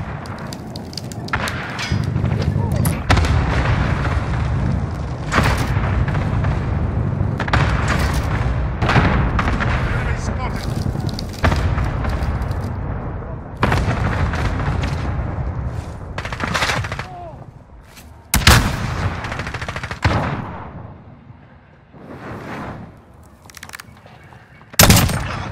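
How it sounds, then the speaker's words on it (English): Precision airstrike in the Modern Warfare video game, with heavy bursts of explosions and rapid gunfire hitting repeatedly, loud booms punctuating near continuous shooting across the scene. "Be advised, friendly precision airstrike inbound."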